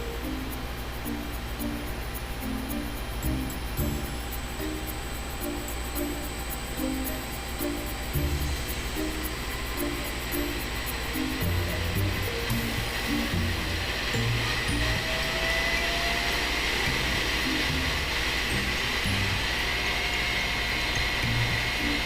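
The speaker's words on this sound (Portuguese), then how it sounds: "Inclusive eu consigo fazer esse motor rodar numa velocidade maior até do que ele foi projetado." An electric motor driven by a frequency inverter at 80 Hz, above its design speed, gives off a steady whirring hum with a faint high whine, unbroken and close, with no talk.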